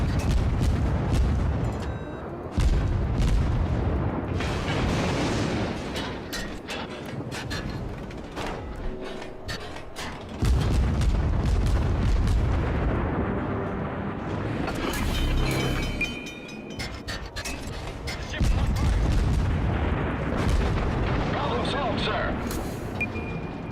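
Naval cruiser guns in World of Warships fire as heavy, booming salvos over a constant engine-like rumble, with several loud blasts spread through the stretch while someone talks over the action.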